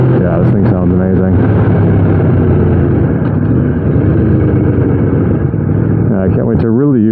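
A 2015 Aprilia RSV4 fitted with an Austin Racing exhaust runs with a loud, close, steady engine drone, rising in pitch with revs near the start and again at the end, while a rider talks over it.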